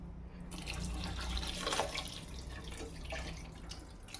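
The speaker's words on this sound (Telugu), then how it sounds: "2 చెంబులు నీళ్ళు పోసుకుంటున్నాను." Water is poured into a cooking pot for mushroom biryani, a soft, steady splashing and trickling stream close by that continues throughout.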